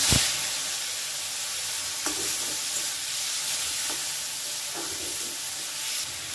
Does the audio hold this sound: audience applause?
no